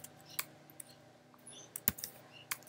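Sparse, quiet key clicks from a computer keyboard as an email address is typed, arriving in small irregular bursts over a soft room hush.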